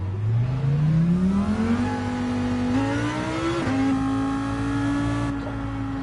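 A Lamborghini engine in Gran Turismo 7 revs and accelerates, its loud steady drone rising in pitch through gear changes over several seconds, with no talk over it.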